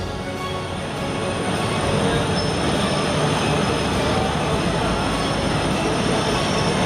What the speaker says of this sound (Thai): นี่คือรถจักรไอ้น้ำแปซิฟิกนะครับหมายเลข 824 ครับ